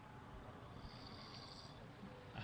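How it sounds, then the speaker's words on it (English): A man snores in a single drawn-out rasping breath, low and rough, heard faintly under a steady background hum. "It's freaking one of our guys freaking snoring in there."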